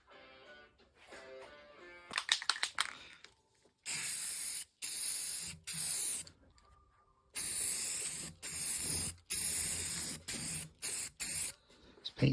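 Paint sprays inside a wooden headboard, with repeated close hissing aerosol bursts of a second or two separated by short silences, after a few faint clicks and rattles at the start.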